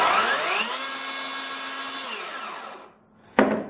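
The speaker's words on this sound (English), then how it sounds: "It does have a little bit of a ramp up when you start it." A Greenworks Pro 60V cordless chainsaw with an 18-inch bar spins up with a rising electric whine, holds a steady high motor tone, then winds down to near silence before a sharp clunk.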